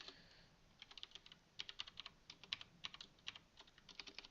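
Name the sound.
typing on a computer keyboard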